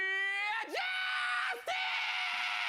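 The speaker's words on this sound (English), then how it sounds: "Did I not just scream like him?" A man screams in long, loud, strained yells, two drawn-out cries broken by brief pitch drops, raw and close.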